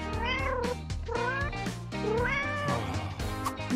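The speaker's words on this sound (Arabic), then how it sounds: "ميو ميو ميو." A cat at a pet hospital meows repeatedly, several drawn-out rising and falling cries in quick succession, close and clear with no talking.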